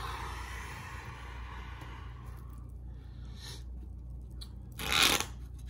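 Tarot cards are shuffled by hand in a quiet room, a soft riffling burst giving way to a sharp, brief flutter near the end over a low steady hum.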